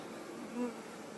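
A soft, steady buzz of honey bees at a hive, with one brief louder hum passing close, quiet overall.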